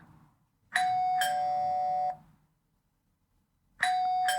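A doorbell rings with a clear two-tone chime, then rings again after a short silence.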